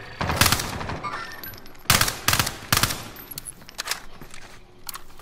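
Gunfire from distant enemies in Call of Duty: Modern Warfare, arriving in several sharp bursts of automatic fire separated by quieter gaps, fairly loud with no talk.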